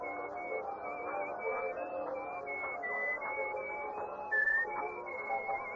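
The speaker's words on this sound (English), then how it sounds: "you were whistling our tune" A man whistles a tune in clear, steady sustained notes with small pitch changes, close and alone against a faint background.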